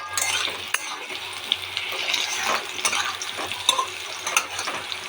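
Potatoes fry in a pan with a steady close sizzle, broken by regular scraping stirs and light utensil clicks, with no voices over it.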